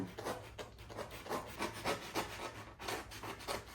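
Steady rhythmic scraping and rasping of a razor blade sawing back and forth through foam board, repeated strokes close up with no talking.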